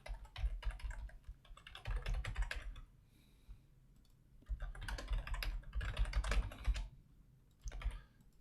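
Someone types an email on a computer keyboard, with quiet, close key clicks in quick runs separated by short pauses, and no voices.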